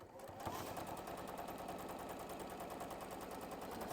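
A sewing machine runs a triple stitch with a steady, fast, close mechanical chatter that keeps going throughout after a brief start.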